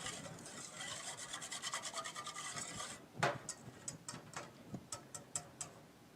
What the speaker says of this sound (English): Whisk that up. If that's too loud for y'all, I'm sorry.